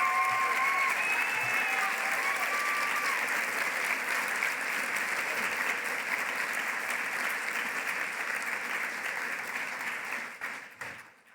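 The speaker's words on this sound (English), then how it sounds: "please, one more round of applause" A large audience applauds the panelists at a forum, a dense, sustained wash of clapping that holds steady for about ten seconds before tapering off, with some voices mixed into the crowd noise.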